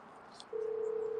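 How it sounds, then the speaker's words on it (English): A steady phone ringing tone plays from a portable speaker. It sets in partway through after a quiet, hissy start and holds as one continuous, even tone at moderate loudness. "why does it sound like the phone's ringing?"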